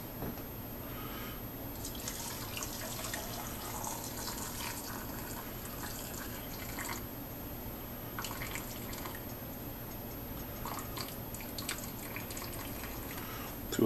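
Pickling liquid is poured from a container into a jar packed with eggs, a faint steady trickle and splash of liquid running continuously at low level with no talk.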